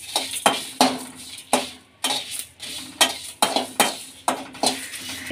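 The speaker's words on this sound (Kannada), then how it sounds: "ಒಂದು ಬಾಣಲಿಗೆ ಸೋಂಪು, ಜೀರಿಗೆ ಹುರ್ಕೊಳ್ಳೋಣ" Whole spices such as fennel seeds, cumin and dried chilies being dry roasted and stirred in a metal pan, giving a series of close, rhythmic scraping and rattling strokes with brief pauses between them.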